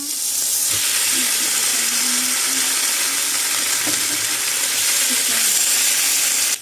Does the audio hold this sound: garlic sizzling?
yes